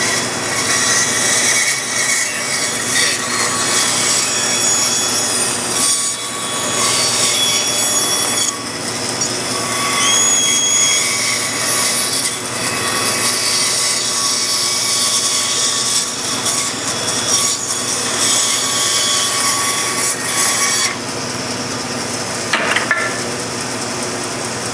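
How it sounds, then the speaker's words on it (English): A bandsaw cuts curved wooden table foot pieces with a loud, steady, continuous whine and hiss that holds for the whole stretch, shifting slightly in tone as the blade works the curve. "I've now cut those curved pieces out on the bandsaw"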